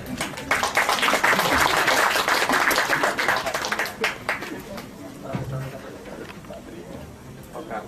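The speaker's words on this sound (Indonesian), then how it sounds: "Tepuk tangan untuk beliau." Audience applause at a Pascal programming seminar in Malang, a dense patter of clapping that holds strong for several seconds and then thins out, with voices murmuring underneath.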